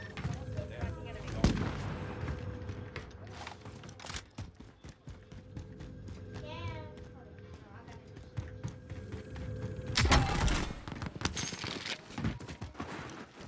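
Gunfire in an online shooter game, DMR and other weapons, cracks out in scattered single shots and rapid bursts, some close and loud and others more distant, with players talking over it.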